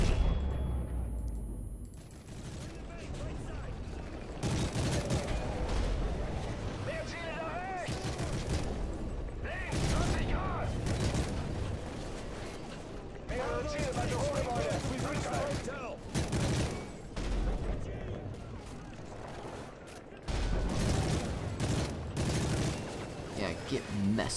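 Gunfire from the Call of Duty: Modern Warfare 3 video game, dense rattling bursts and booming shots running almost continuously and loud, with people talking over the game sounds.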